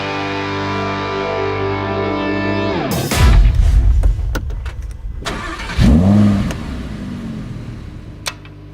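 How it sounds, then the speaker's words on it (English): A rear-wheel-drive Lamborghini Huracán LP 580-2 V10 on a racetrack holds a loud steady drone, then drops and roars with sharp revs and a second surge, heard close with no talking. "we're in a rear-wheel drive Lamborghini on a racetrack"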